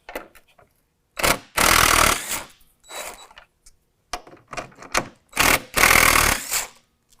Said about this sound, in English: these 2 bolts right here have to come out using a 10 millimeter